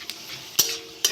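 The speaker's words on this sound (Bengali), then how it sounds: "শুকনো লঙ্কাটা ভালো ভাজা হয়ে গেছে" Dried red chillies fry in mustard oil under a faint, steady sizzle, punctuated by two quick metallic spatula clinks.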